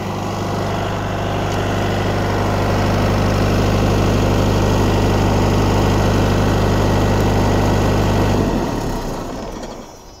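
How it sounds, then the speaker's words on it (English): Electric motor on a refrigerated trailer unit running off a zero-emission power pack gives a loud, steady mechanical hum with a low drone, holding constant before winding down near the end. "I'll be plugging in the high voltage connection and we'll watch as the electric motor spins up"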